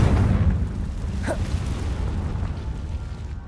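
A Confringo explosion spell goes off in a PS5 magic school adventure game, a loud low rumbling blast that rolls on for several seconds with a brief whooshing streak partway through.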